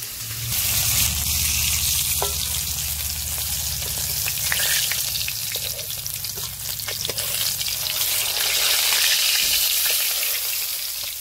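Salted sea shutki fish fries in oil over a village cooking fire, producing a loud, steady sizzle with occasional stirring scrapes throughout.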